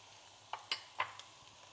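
Ginger, garlic, green chilli and curry leaves sautéing in a pan: a faint sizzle with a few brief stirring clicks close by and no voices.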